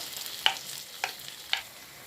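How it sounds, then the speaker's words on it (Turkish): Tomatoes and peppers frying in a pan for menemen, a soft, close sizzle with three evenly spaced sharp scrapes or taps of a utensil stirring the pan. "Domateslerimizi aktarıyorum. Domatesler de bir güzel kızarsın."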